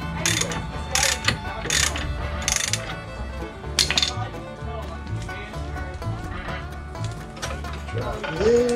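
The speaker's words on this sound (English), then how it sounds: "Gotta run our spline bolt here." A hand ratchet clicks in short repeated bursts while driving a spline bolt on the front suspension of a 2000 Chevy Impala, close and fairly loud, with metallic clinks and a few scattered voice sounds.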